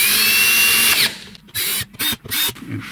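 A power drill driving screws back down tight into a fishing landing net, with a sustained high motor whine that winds down, followed by three short bursts of drilling separated by pauses.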